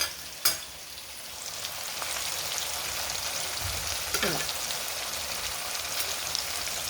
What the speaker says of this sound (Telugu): ఇలా కొంచెం ఫ్రై అయితే మళ్ళీ మనము ఇవన్నీ వేసేసుకున్నాం టమాటాలు చింతపండు రసం అన్నీ